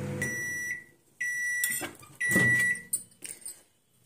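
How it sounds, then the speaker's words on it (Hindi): A microwave oven beeps several times in short bright tones, followed by the clunk and rattle of its door opening after four minutes of roasting cumin seeds, close and clear with no talk. "चलिए डोर को ओपन कर लेते हैं"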